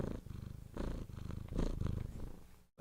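A cat purrs steadily up close, a soft rhythmic rumble in several long breaths with no talking over it.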